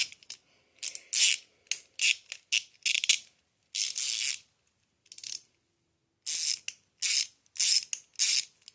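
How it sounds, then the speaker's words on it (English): A ratchet wrench tightens a part on a hot rod, sounding as short bursts of sharp clicking strokes separated by brief pauses, close and crisp in an otherwise quiet space. "I'm going to grab my little ratchet here."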